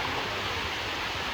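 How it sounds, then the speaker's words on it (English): Steady broadband rush of water pouring over the sticky waterfalls, a continuous even wash with no voices. "These are the sticky waterfalls."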